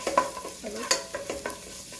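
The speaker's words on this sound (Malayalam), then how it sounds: "എണ്ണ ചൂടായിട്ടുണ്ട്. അതിലേക്ക് വെളുത്തുള്ളി ചെറുതായിട്ട് കൊത്തി കഴിഞ്ഞത് ഒരു 7-8 ഉണ്ടാവും." Finely chopped garlic frying in hot oil, with close utensil scrapes and stirring clatter over a soft sizzle in short uneven bursts.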